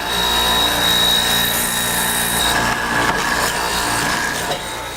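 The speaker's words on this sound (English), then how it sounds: "a Mortise Machine to create cuts in the legs of the seats" A heavy mortise machine cuts mortises into wooden chair legs, giving a loud, steady mechanical roar with a constant high whine, continuous throughout, shifting slightly in texture partway through as the cut goes on, no voices.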